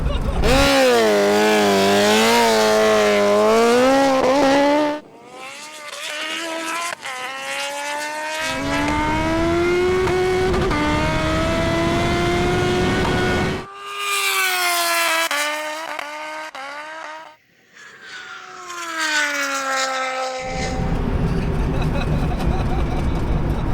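Dani Pedrosa's KTM MotoGP bike at a drag race rises in repeated wailing acceleration runs, the pitch climbing through gear changes, loud and fairly close, with engine noise dropping away between pulls and people talking over it.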